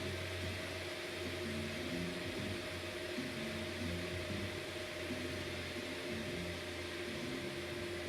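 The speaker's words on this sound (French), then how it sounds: "on entend les ventilateurs là tournent moins vite" Cooling fans in a power supply whose output voltage is being turned down to about 23.5 V, a steady close mechanical whir with a constant tonal hum, running alone without pause.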